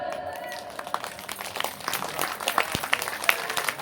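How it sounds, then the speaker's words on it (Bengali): Audience clapping at a Bengali kirtan gathering, a scattered, uneven patter of many hands that builds over a few seconds against low crowd murmur. "এবার একটু করতালি দিন"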